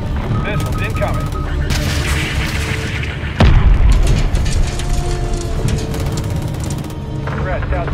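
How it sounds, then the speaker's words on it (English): Incoming missile strikes in Call of Duty MW III, with a heavy boom landing mid-clip over a dense, continuous roar of battle, mechanical rattling and distant gunfire, loud and close throughout. "Missiles incoming."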